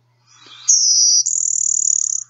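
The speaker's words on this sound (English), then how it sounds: "the blue-winged warbler type 1 song" Blue-winged warbler type 1 song: a short rising buzzy note leading into a longer, rapidly pulsing high buzz, sung once, loud and close in an otherwise quiet setting.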